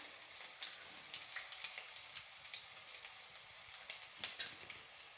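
Asafoetida drops into hot oil in a pan and sizzles faintly, a soft, steady crackle with small pops.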